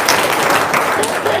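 Brief burst of studio audience applause, dense and steady clapping filling the short moment at close range, with no voices over it.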